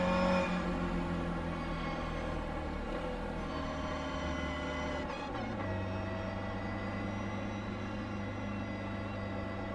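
Race car engines drone steadily at high revs, with pitch shifting as the cars ease off and back onto the throttle, loud and sustained.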